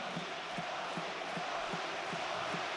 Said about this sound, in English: lumalakas lang ang cheer ng Navi pag nakakalamang.